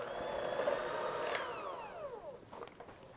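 A stand mixer runs on low through pecan sandies dough with flour being added, giving a faint steady whir whose motor whine slides downward in pitch.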